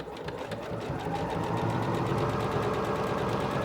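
A Singer Professional 9100 sewing machine stitches a buttonhole with a fast, even mechanical whirring and rapid needle ticks. The sound is near and steady, builds up over the first second and then runs continuously without talk.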